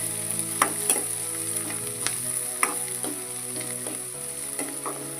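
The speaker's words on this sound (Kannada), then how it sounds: "ಉಳ್ಳಾಗಡ್ಡೆ ಸ್ವಲ್ಪ ಬೇಯ್ತೀವಿ." Chopped onions fry in oil with curry leaves in a pan, a steady close sizzle broken by repeated scraping clicks as a spoon or hand stirs them through, with no voices.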